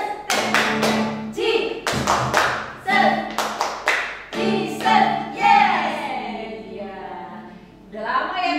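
Children's clapping routine at a Sunday school service, rhythmic bursts of hand claps and taps in quick groups with short pauses, fairly close and loud, with voices chanting along between the claps.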